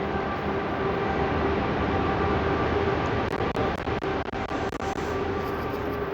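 A DEMU diesel train on the Katra–Badgam line runs through a tunnel toward a station, giving a loud, steady rumble that fills the whole clip, with a few brief sharper rattles near the end.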